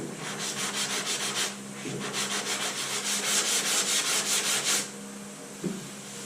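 Sanding block with 80-grit paper rubbing over body filler in steady back-and-forth strokes, a close, continuous rasping scrape with a brief pause near the start and end.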